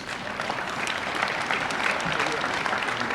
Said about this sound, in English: That's an applause line, folks.